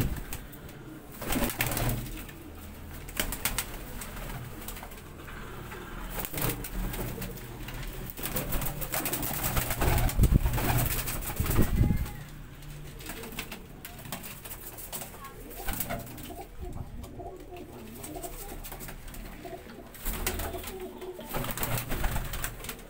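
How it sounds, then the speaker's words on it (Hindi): Spotted pigeons coo steadily in a loft in Faisalabad, a dense chorus of low throaty calls with occasional wing flutters, continuous throughout and close by. "छापदार मिसे कबूतर है"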